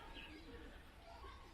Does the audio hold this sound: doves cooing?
yes